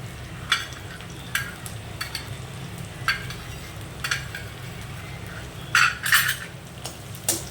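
Ginger-garlic and cumin paste frying in a pan, a faint steady sizzle under repeated sharp metal scrapes and clinks of a spoon against the pan, with a louder cluster of clattering stirs near the end.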